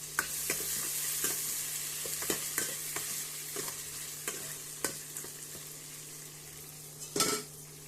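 Tomato and mixed vegetables fry in a pan, a steady close sizzle broken by repeated light scrapes of a stirring spoon and one louder clank near the end.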